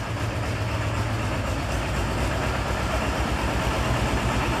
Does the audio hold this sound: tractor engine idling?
yes